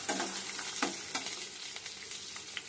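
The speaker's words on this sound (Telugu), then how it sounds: "కారం ఫ్రై అయిన తర్వాత పచ్చిమిరపకాయలు, ఉల్లిపాయలు వేసి కలిపేసుకోవాలి." Green chilies and onions frying in a pan and being stirred, giving a steady close sizzle with several sharp scraping spoon strokes.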